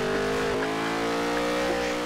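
Race car in the Nascar Heat 3 video game losing control, its engine droning steadily with a sustained tire squeal and skid throughout, loud and continuous with no talk.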